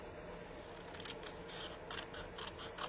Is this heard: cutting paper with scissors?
yes